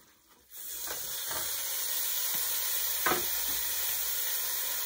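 Ground meat and Italian sausage hit a hot pan, breaking into a steady, close sizzle that holds after a short quiet start, with a few faint stirring scrapes.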